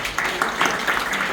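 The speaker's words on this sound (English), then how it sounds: "Can you give him a round of applause?" An audience at a university seminar applauds the president, a short steady burst of clapping filling the room with no break.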